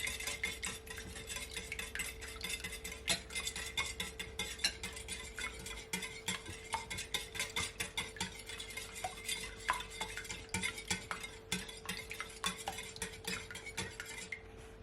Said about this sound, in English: So I'm just gonna whisk my egg